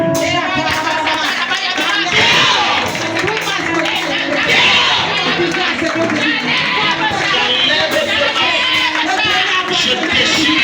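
A church congregation at a worship service raises a dense, sustained wave of cheering, shouting and clapping. The loud, continuous crowd roar fills the whole stretch, with voices mixed throughout.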